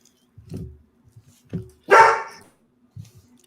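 A dog gives a few short barks at medium distance indoors, with one louder, sharper bark standing out among softer ones and quiet pauses between them.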